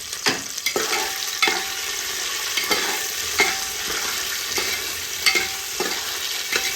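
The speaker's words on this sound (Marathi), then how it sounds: "असं मटार हलवून घ्यायचं आपल्याला।" Green peas frying and being stirred in a pan for a pea pulao, with steady close sizzling and repeated scraping strokes of a spoon at an even rhythm, no voices.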